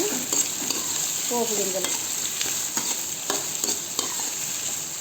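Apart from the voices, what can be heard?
curry leaves, onion, green chili frying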